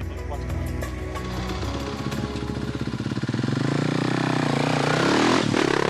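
A BMW rally motorcycle, ridden by a competitor in the Africa Race, sets off, its engine thumping rhythmically and then revving up strongly and rising in pitch as it pulls away close by.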